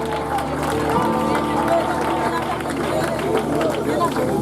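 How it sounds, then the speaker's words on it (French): Wedding guests applaud the newly married couple at a reception entrance, a steady dense clapping with crowd chatter throughout, close and fairly loud. "On peut les applaudir encore une fois."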